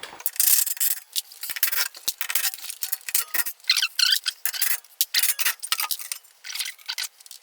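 Six 16 mm bolts come off the front differential of a BMW E90-series 328i xDrive: rapid rasping ratchet clicks in quick bursts, close and fairly loud, with brief gaps between turns and no talk.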